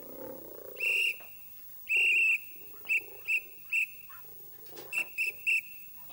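People whistle back and forth to talk to each other, giving sharp, loud, high whistle bursts of varying length that come in short repeated clusters separated by quiet pauses.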